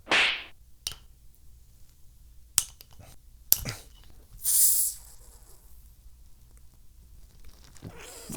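A cold beer bottle is opened with the bottle opener on the strap of a JBL Xtreme 3 Bluetooth speaker. A few sharp clicks and clinks lead to a quick, loud hiss of escaping gas, followed by quieter handling noise.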